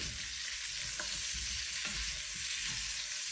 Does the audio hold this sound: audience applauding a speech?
no